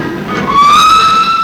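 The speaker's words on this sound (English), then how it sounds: "there goes the 9:17 Sheffield" The 9:17 train to Sheffield pulls away from York station, a steady rising tonal whine with harmonic overtones sustained and fairly loud, no voices.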